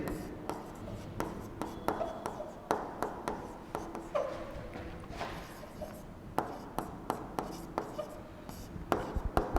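Marker or chalk writing words on a classroom board, a run of quick taps and short scratchy strokes in irregular rhythm, close and fairly quiet with faint room noise between strokes.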